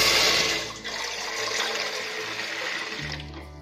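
About a litre of water gushes into a heated pot being readied to steam muan pitha, a continuous splashing rush lasting around three seconds before it tapers off and stops.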